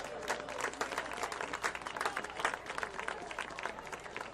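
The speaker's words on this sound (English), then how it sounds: "Let's give a big round of applause" Crowd in the stands at a varsity high school football game, Grandview Heights against Columbus Academy, applauding in a steady, fairly distant wash of clapping that carries unbroken throughout.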